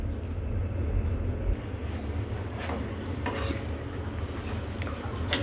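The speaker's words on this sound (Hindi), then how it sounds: "अब मैं इसको हिलाने लगी हूँ और इसको अच्छा सा कलर आने तक आपने इसको फ्राई करना है" Bread rolls frying in a pan on medium-high heat are stirred, giving a few sharp spoon-on-pan scrapes and clinks over a steady low rumble of frying.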